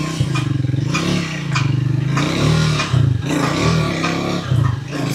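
Close, loud engine of a 400 cc Triumph Speed 400 motorcycle, throttle blipped again and again so the throbbing note surges and drops in short waves with no one talking.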